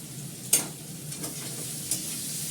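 Potatoes frying with cabbage in a kadai, seasoned with cumin, asafoetida and green chili, give a soft steady sizzle, with a couple of sharp stirring scrapes standing out against the quiet background.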